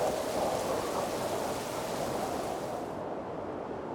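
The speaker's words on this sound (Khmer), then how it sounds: "អូភ្លៀងវាភ្លៀងហើយភ្លៀងអស់រយៈពេល40ថ្ងៃ" Heavy flood rain falls in a dense, continuous roar with a broad rushing wash, steady and close throughout, with no voices.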